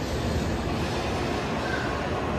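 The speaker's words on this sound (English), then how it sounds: "Let me record one more train going to Shin Osaka." A Kodama Shinkansen bullet train passes through a station in Japan, heard as a loud, continuous rushing roar with a steady rumble and no pauses.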